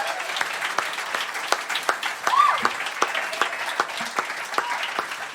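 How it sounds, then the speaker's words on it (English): Live audience at a comedy podcast recording claps in a loose, scattered round, individual hand claps standing out near and crisp over a soft crowd murmur, with a brief vocal whoop partway through. "Give yourselves a round of applause"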